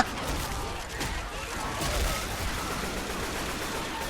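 Rapid bursts of gunfire in Left 4 Dead 2 blend into a dense, continuous barrage, loud and chaotic, with no clear gaps between shots.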